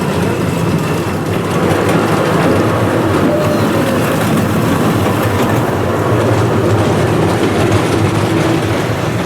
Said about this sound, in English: a pretty good mine train as when you compare this to like other ones